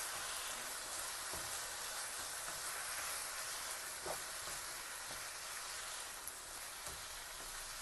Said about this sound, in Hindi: अब हम अपने वेजिटेबल को अच्छी तरह से मिक्स करते हैं।